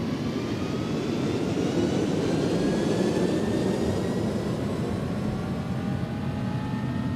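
The jet engines of an iniBuilds A300-600R freighter spool up for takeoff from runway 22 at Stansted in X-Plane 11. It is a loud, steady, dense roar with rising whining tones that climb gradually, and no voices are heard.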